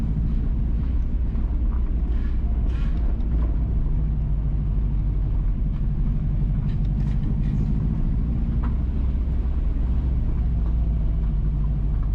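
A car drives east along Morgan's Bay Street in Preston Land, St Mary, Jamaica, giving a constant loud low rumble of engine and road noise with faint rattles over it.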